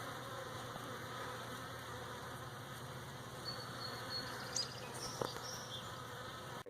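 Honeybees from a bee package warm up and grow active, giving a steady, soft, close insect buzz with a few brief louder passes and no talk.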